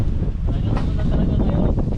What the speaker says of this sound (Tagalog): Talagang malakas yung hangin